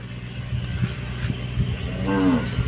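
Cattle grazing in a rice field moo several times over a steady low drone, with one longer, clearer moo near the end; no talking.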